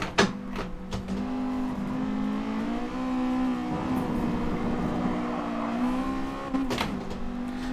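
A truck engine revs hard in a driving video game, a loud sustained drone with a wavering harmonic whine that rises and dips, punctuated by a few sharp clunks near the start and end.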